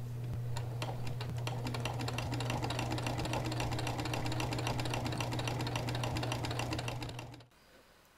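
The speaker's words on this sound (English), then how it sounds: "Move to the machine and stitch along the two folds using a straight stitch." A sewing machine runs continuously with a straight stitch along the folds of a quilted potholder, a steady close mechanical hum and rapid clatter for about seven seconds before stopping abruptly.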